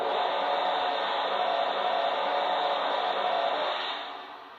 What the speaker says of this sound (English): Here is the steam blowdown sound.